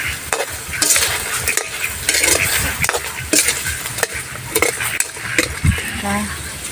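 Sotanghon noodles with bean sprouts are stirred in a hot pan, giving loud, close scraping and clattering of a utensil against metal over a steady sizzle, in irregular strokes.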